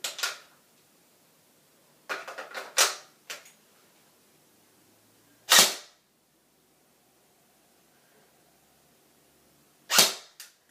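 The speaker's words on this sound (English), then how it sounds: "The trigger response on semi, it is unloaded, mind you." A G&G CM16 Raider airsoft rifle dry-fires on semi-auto while unloaded, giving sharp mechanical snaps: a quick cluster of several shots, then two well-spaced single shots, close and loud against near silence.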